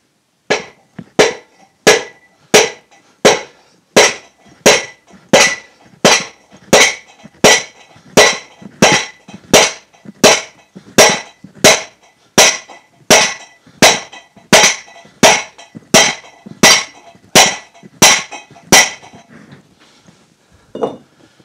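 A hammer strikes a David Brown 990 tractor brake drum with about thirty sharp, evenly spaced metallic taps, loud and close, followed by a brief quiet tail with no talking.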